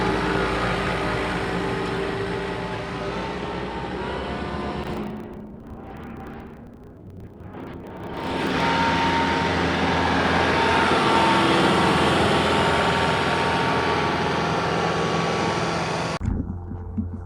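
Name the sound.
John Deere 4052R compact tractor driving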